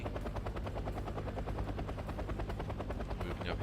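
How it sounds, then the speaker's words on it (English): A Mi-2 scout helicopter in Wargame: AirLand Battle thumps steadily with rapid rotor chop, loud and continuous throughout, with a faint hint of distant gunfire and battle noise mixed in. "here's the Mi-2 scout chopper now"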